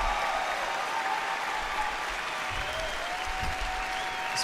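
Large crowd applauding in a big convention hall at BlizzCon, a steady wash of clapping with some cheering, heard at a distance under a broadcast mix.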